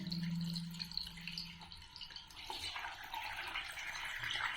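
Water runs through a bathroom plumbing fitting connected to a tank system, a thin trickling and dripping flow that swells into a brighter gushing rush, close by with no talk over it.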